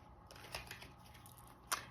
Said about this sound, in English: just shuffle the cards.